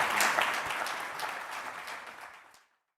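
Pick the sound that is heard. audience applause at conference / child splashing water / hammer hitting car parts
audience applause at conference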